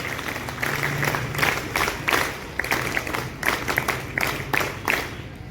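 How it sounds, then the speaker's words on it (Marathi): Parents and children at a school Independence Day function clap for a student and her parents, a moderately loud crowd applause with uneven rhythmic bursts of clapping that rise and dip throughout. "जोरदार टाळ्या वाजवा एकदा फाईल मध्ये त्यांच्या"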